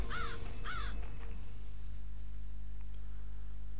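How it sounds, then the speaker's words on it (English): Two harsh caws come from a crow in the PC game BloodLust: Shadowhunter, close and clear at the start, then fading into a low steady hum. "See what the crow wants."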